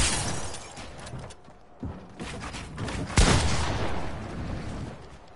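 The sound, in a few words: sniper rifle gunfire in a video game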